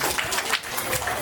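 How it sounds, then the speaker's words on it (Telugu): School students clapping together at a Ugadi celebration in Warangal: a short, dense burst of group applause with a faint voice underneath. "మరి చప్పట్లు కొట్టండి"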